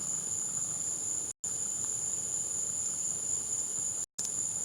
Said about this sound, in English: I hope you guys like the ASMR with the cicadas and the grasshoppers